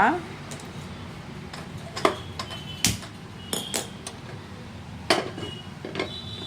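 A cooking pot is set on a kitchen stove with a few sharp metallic clanks and knocks, close and fairly quiet, scattered over a couple of seconds while a person talks.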